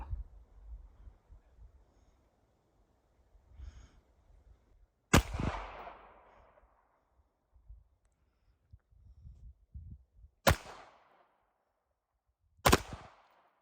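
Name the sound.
pistol bump fire shooting upside down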